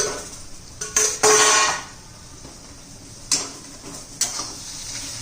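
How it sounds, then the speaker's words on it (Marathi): A lid comes off a cooking pot of ridge gourd thecha: a few sharp metallic clinks and clatters, close and brief, separated by quiet. "हे आपण आता झाकण काढून बघू"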